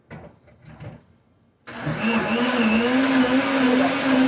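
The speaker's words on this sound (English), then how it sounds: "hopefully y'all can hear me a little bit over that blender" A blender runs loud and steady from about 1.7 seconds, whirring with a shifting motor pitch as it makes a smoothie, after a stretch of quiet low speech.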